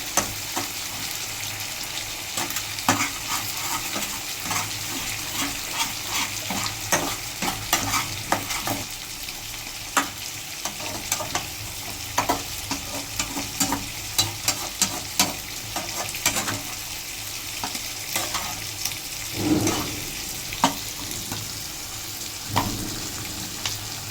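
Chicken and egg sizzle steadily in a pan for an egg roll, with frequent scraping strokes and clicks as a utensil stirs the mixture. Sounds are close and unaccompanied by talk.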